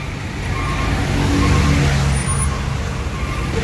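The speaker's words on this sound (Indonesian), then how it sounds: "Macetan panjang." Steady low rumble of road traffic in a long jam with cars and trucks, including buses near a Rosalia Indah coach, continuous and moderately loud with no talk.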